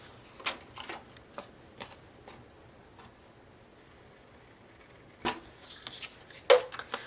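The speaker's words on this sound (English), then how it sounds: "I'm going to just cut that out with some scissors" Scissors cutting a cloud shape out of paper, giving a run of soft crisp snips and rustles up close, with a quiet gap partway through before a few more cuts.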